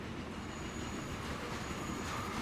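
A freight train rolls past in the Transport Fever railway game, with continuous wheel rumble, rail clatter and a thin high squeal, heard alone at moderate volume.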